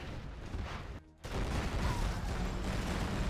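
Continuous Gatling cannon fire in a tank battle video game: a dense, loud fusillade of rapid shots that drops out for a split second and then resumes even heavier.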